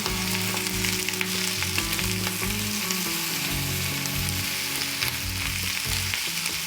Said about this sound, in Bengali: গরম হয়ে গেলে তাতে কুচিয়ে রাখা পেঁয়াজটি দিয়ে ভাজতে থাকব